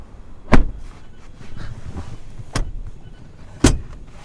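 The door of a 2018 Mazda CX-9 SkyActiv-G 2.5T shuts with a sharp thud, followed by two further solid door-like thumps at irregular intervals against quiet interior background.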